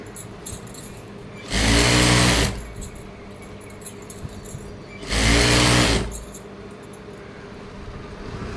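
A sewing machine stitches a fall onto a saree in two separate bursts of about a second each, loud and close, with a quiet room between them and no talking.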